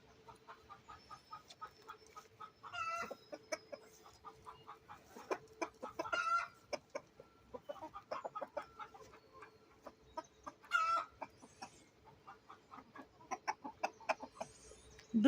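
Hens cluck and murmur in a hen house while laying eggs, a steady scatter of soft clucks and occasional louder squawks, fairly close and with no talk.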